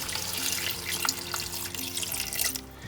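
Water poured into a pan of fish korma, a steady close splashing stream that runs for a few seconds and stops abruptly near the end.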